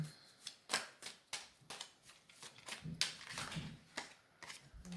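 A deck of tarot cards being shuffled by hand: quick, crisp riffles and slaps in uneven bursts, close and fairly quiet, with no talking over them.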